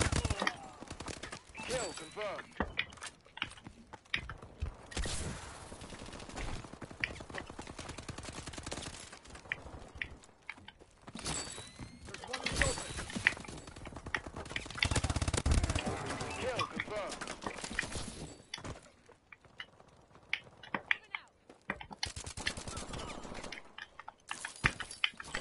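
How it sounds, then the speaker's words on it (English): Rapid gunfire bursts from the video game Call of Duty Advanced Warfare, sharp cracks and automatic fire recurring throughout, mixed with game noise and a player talking. "Oh my god, I see gunfire."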